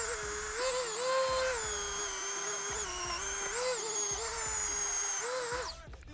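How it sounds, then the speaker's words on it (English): A Dremel rotary tool fitted with a Scotch-Brite pad scrubs carbon off 2001 Honda CR125 top-end engine parts, a steady high-pitched whine that dips and rises in pitch as the pad loads against the metal, close and continuous before cutting off at the end. "we're gonna go over them really quick with the Dremel and a little Scotch-Brite pad to really get all the carbon off"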